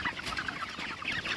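A flock of meat chickens in a pen clucks and chatters in a dense, overlapping chorus, moderately close and fairly quiet, with no voices.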